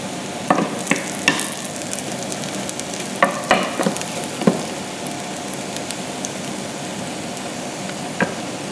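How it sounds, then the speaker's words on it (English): Pancake batter fries in a pan with a steady low sizzle, broken by a few sharp clicks and scrapes as a utensil touches the pan. "So just fry it on one side and then flip it when it's good enough"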